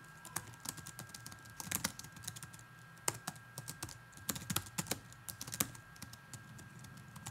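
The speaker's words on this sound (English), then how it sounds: "I'm going to type in my name and address." Typing on a computer keyboard, with irregular bursts of close, crisp key clicks and brief pauses between them, steady and moderately quiet with no voices.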